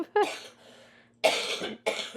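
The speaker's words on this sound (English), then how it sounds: "Sorry about this cough" A woman coughs close by in three harsh bursts, with short quiet gaps between them.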